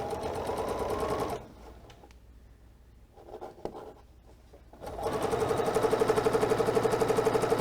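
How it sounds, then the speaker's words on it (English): Sewing machine stitching quilt fabric, a loud rapid mechanical whir that runs, stops for a few seconds of near quiet with faint handling noises, then starts again and keeps going. "Just sew down to where my hand is at."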